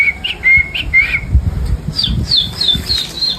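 A person whistles an imitation of a sparrow chirping, with short, bright, close chirps and trills repeated in quick bursts over faint thumping handling noise.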